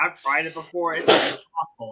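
A single sharp sneeze bursts out in the middle of ongoing close speech, loud and breathy, with talking before and after it.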